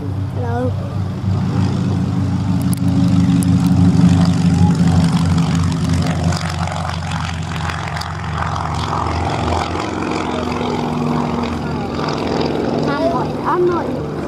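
A Percival Pembroke aircraft with twin Alvis Leonides radial engines drones loudly and steadily throughout, a deep throbbing engine roar with people talking over it.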